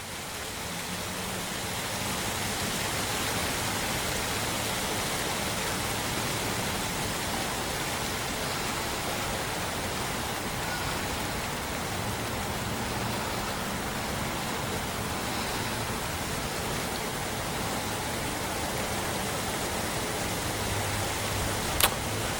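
Steady rain falls on a roughly 50-degree day in November following a thunderstorm, a dense continuous hiss that holds even and loud throughout with no voices.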